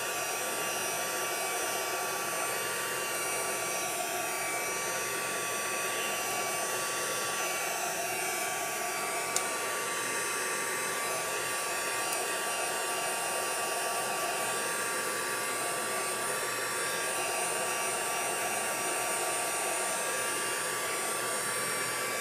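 A hair dryer blows steadily and loudly for over twenty seconds without pause, drying paint on a journal page, with a faint click partway through.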